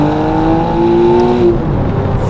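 A Novitec-tuned McLaren Artura with a 735 hp V6 and new exhaust system accelerates hard, its loud, close engine note climbing steadily with a raspy whir throughout.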